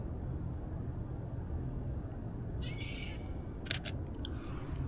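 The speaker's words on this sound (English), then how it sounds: "Why is that bird screaming?" A bird screams in brief, sharp bursts near a lakeside trail in a natural area, faint over a low steady rumble of ambient noise, with no talking.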